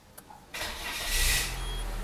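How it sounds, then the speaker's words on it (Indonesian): A 2004 Peugeot 206 engine cranks briefly and catches, then rises into a loud, steady idle close by, following a short click before the start. "Kita coba hidupkan dulu mesinnya."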